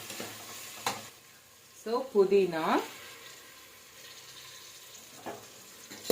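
Egg biryani masala with mint sizzles in a pan as it is stirred, a short burst of scraping and frying in the middle against a quiet, low hiss, with a brief spoken word near the start.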